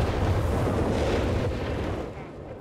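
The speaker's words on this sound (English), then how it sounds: "lighting up the night here with heavy incendiary rockets" Heavy incendiary rocket barrage in Company of Heroes 3, a dense rumbling roar of overlapping blasts that holds loud and fades slightly near the end.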